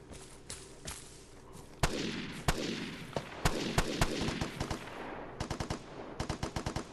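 Gunfire in the multiplayer shooter game Vigor: sharp, loud shots crack out singly and in rapid automatic bursts, some close and some echoing, with quick clusters of shots toward the end.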